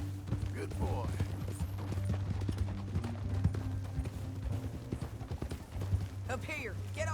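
Horse hooves clip-clop in a quick, steady rhythm nearby in Red Dead Redemption 2, with a brief whinny and a low hum beneath, while voices talk over it.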